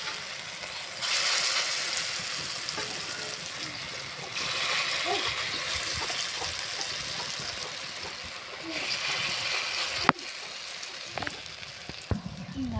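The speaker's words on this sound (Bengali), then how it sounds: "এই বড়াটা আমি একটু লাল লাল করে মচমচে করে ভাজবো" Lentil fritters (bora) fry in oil in a wok until crisp and reddish, a loud continuous sizzle that swells and eases, with a few sharp utensil knocks near the end.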